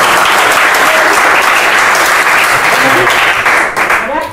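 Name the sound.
applause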